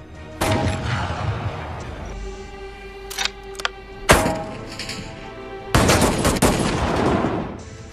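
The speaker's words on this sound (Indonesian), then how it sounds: "Tembakan uji coba meleset, tapi setelah itu Jack berhasil menembak target dengan mudah." Sniper rifle gunshots in a film scene ring out as a few loud, sharp blasts spaced several seconds apart, each with a long reverberant tail, over a steady tonal musical background.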